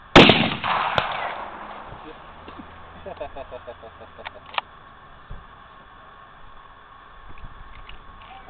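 A single sharp .308 hunting rifle shot cracks out at close range at a shooting spot, with a long fading rumble after it and some faint movement and quieter noises later on.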